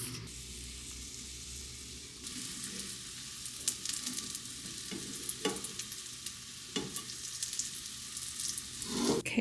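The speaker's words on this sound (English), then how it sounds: "let me get my frying pan, and then we can get to frying" Chocolate chip pancakes fry in a frying pan with a constant soft sizzle, while occasional scrapes and clicks from the pan sound close by and no one talks.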